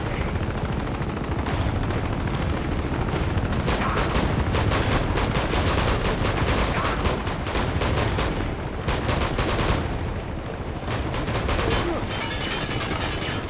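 Helicopter gunfire in the video game Uncharted 2: dense, rapid bursts of automatic fire crackle continuously and loudly, with sharp repeated shots dominating throughout and faint talk beneath.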